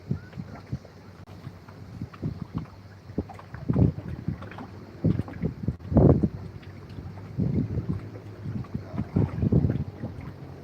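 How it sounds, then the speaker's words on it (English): Gusts of wind buffet the microphone on seaside rocks in loud, irregular rumbling bursts, with water sloshing faintly underneath. "It's far too windy for doing this."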